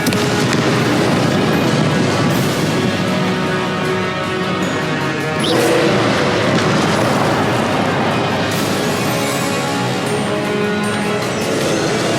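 Spell explosions from the Confringo curse in Hogwarts Legacy on PS4, a dense, continuous barrage of booming blasts with crackling bursts, loud and close throughout, with a sharper swell around the middle.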